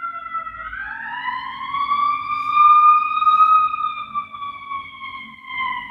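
A wailing emergency siren rises and falls slowly in a steady tone, fairly close and loud, with a faint low rumble of traffic beneath it.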